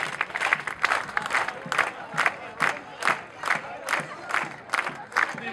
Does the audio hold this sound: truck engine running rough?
no